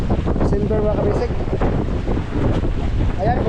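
Strong northeast monsoon wind buffets the microphone over big Pacific Ocean waves beside a service boat, a loud, steady roar with continuous surf wash.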